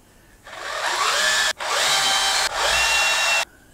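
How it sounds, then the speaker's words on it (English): A power drill driving screws into the wooden back of a DIY bird feeder, three loud whirring bursts separated by short pauses, close up with no talk. "I'm going to fix it to the back again"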